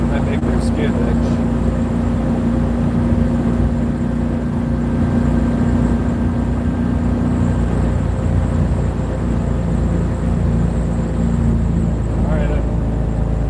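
Plymouth Barracuda engine droning steadily at 3,800 RPM while driving, a continuous loud low rumble throughout with a person talking over it.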